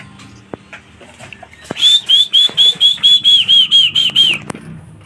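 Domestic pigeons, young breeder birds, flapping their wings in a rapid burst of about a dozen beats, each wing clap paired with a whistling wing tone, close and loud over a quiet background.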